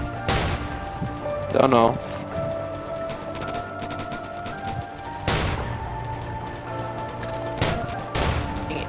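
Shotgun blasts in the Roblox zombie game, several sharp bursts spaced a few seconds apart under steady game noise, with players talking over the action.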